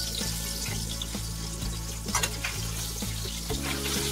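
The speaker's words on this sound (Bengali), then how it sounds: "আরেক পিঠও ভেজে নেওয়া হলো।" Tilapia fish pieces frying in oil under a covered pan, a dense continuous sizzle with a low hum beneath and a few brief louder crackles, no talking.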